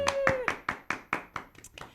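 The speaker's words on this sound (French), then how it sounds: "On l'applaudit!" Sharp, regular hand claps, about ten in two seconds, close and fairly loud, as an audience greets a guest on a talk show, with a brief tone at the start.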